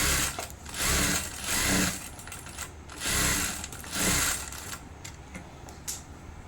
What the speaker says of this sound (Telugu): దాన్ని ఈ విధంగా టాప్ స్టిచ్ వేయండి.